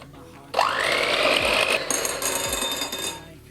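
An electric hand mixer whips cream in a kitchen, whirring up to a steady high-pitched buzzing drone with a rising start and slight shifts in pitch as the beaters work, loud and close, with no talking.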